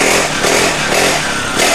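A small petrol engine on a kids' bike runs close by, a loud, steady, rattly buzz with slight pulsing and no talking.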